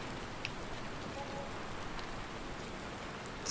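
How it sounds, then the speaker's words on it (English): Steady rainfall in the Farming Simulator 19 farming game, an even, dense patter of drops on surfaces that holds at a constant moderate level throughout, with no voices. "It's still raining, which is no good."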